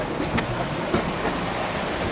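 Water tumbling down the cascades of an artificial mountain stream in the Oder river biotope exhibit at Wrocław Zoo, pumped from a reservoir to the top; a steady, fairly loud broadband rush with a few brief splashes, no voices.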